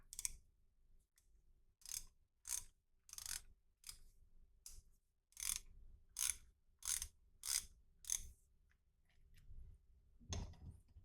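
A MATADOR 1/2-inch ratchet wrench, an older model, clicks in repeated bursts, each short run of soft ratcheting followed by a pause, fairly close and with no talking.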